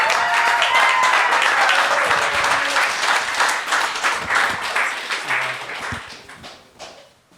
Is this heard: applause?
yes